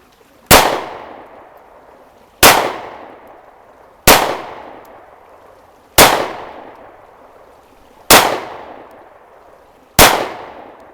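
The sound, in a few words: gunshots from a Smith & Wesson Compact 2.0 pistol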